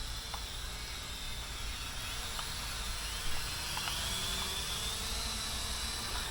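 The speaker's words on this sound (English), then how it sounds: "when I'm giving it upward thrust to gain altitude" Steady high whine and buzz from the propellers of a small, cheap E99D MAX drone climbing in flight. The hovering hum holds evenly throughout, with a slight bump in intensity midway.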